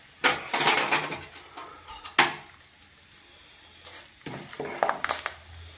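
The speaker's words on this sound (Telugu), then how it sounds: "తాలింపు గింజలన్నీ వేసేసినానండి." Tempering seeds fry in hot oil for a homemade tomato pachadi while a utensil stirs and scrapes the pan. Loud bursts of sizzling crackle mix with metallic clatter, then a quieter pause, then more stirring.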